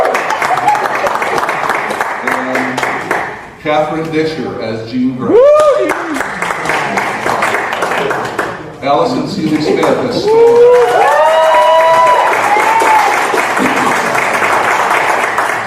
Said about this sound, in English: let's clap for our favorite X-Men